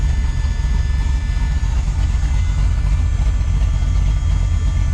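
A Volkswagen Beetle with a swapped-in LS V8 runs steadily at idle, a loud, close, continuous low rumble with no talking over it.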